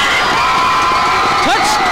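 Crowd at a 2003 high school football playoff game between Oak Creek and West Allis Central, a broad steady roar of cheering and whooping throughout, with shouts rising near the end.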